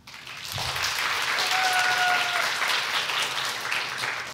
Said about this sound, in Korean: 박수로 청해 들어보겠습니다